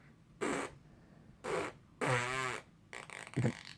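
A child blows repeated mouth-made fart noises, several separate raspberry-like bursts at close range with short pauses between them; the voice imitates the sound rather than a real fart.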